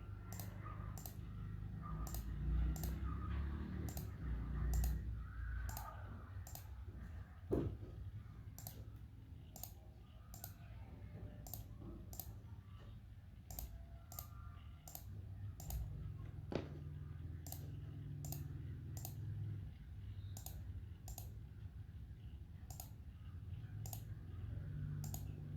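Mouse buttons click in quick, regular bursts through the whole stretch while wires are drawn in circuit simulation software, crisp and close against a faint low room hum.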